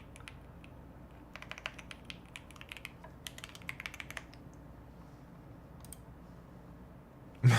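Keys on a 75% computer keyboard clack in quick bursts, close and fairly quiet, with the busiest stretch of typing in the first half before it trails off into light background noise.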